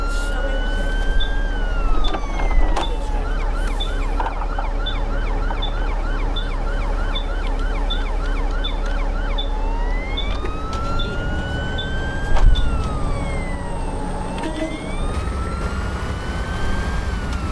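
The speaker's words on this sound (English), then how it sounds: "There's always an ambulance that turns down that road." An ambulance siren in the bus-driving video game OMSI 2 wails in a fast repeating yelp, then shifts to slower rising and falling sweeps, loud over a steady engine drone with occasional clunks.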